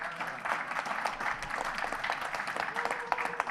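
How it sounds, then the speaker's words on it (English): Audience applause at a live show ripples steadily through the room for a few seconds, a dense wash of clapping at moderate level with faint voices mixed in. "you step on my lines with applause"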